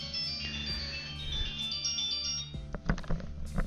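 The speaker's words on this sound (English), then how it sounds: "Phone is ringing." A phone ringing with a melodic, tonal ringtone that sustains for a couple of seconds, moderately loud, followed by several dull thunks and clatters near the end, with no talk over it.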